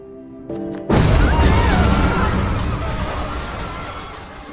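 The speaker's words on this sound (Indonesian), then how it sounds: "Kim pun sudah menggenggam secuil granat di tangannya yang membuat mereka berdua meledak." A grenade explodes in a Korean action film scene, a sudden deep boom bursting after a moment of tense music, then a loud rumbling roar that slowly fades over several seconds.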